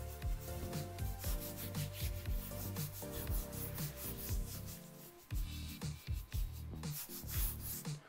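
A brush scrubs hard and repeatedly along a dry barbell to loosen buildup from its knurling, rapid rasping strokes heard up close and loud, continuous with a few short breaks.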